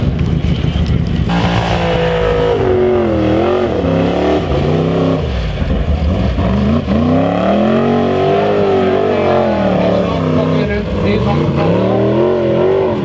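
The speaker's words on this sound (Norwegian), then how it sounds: "Her er det moderne motoroppsett, hvis vi kaller det Chevrolet LS-motor, V8 med rytme med turbo." Off-road race car with a turbocharged Chevrolet LS V8 revs loudly and continuously at a Formula Offroad event, its engine pitch rising and falling through throttle changes, with a commentator talking over it.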